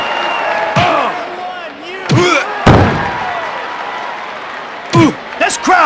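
A roaring arena crowd in the wrestling video game WWF Attitude on Dreamcast, with loud cheering bursts and heavy slams and thuds, and announcer-style voices talking over it.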